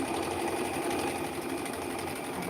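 Domestic sewing machine stitching a serpentine line back up a knitted steek, a steady, close, continuous mechanical whir with fine rapid ticking and no voices.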